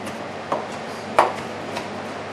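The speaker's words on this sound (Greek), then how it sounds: "Παίρνουμε την ντομάτα μας και αρχίζουμε και την κόβουμε μικρούς κύβους." A knife chops a tomato into small cubes on a board, giving a few sparse, distinct knocks over about two seconds against a soft background hiss.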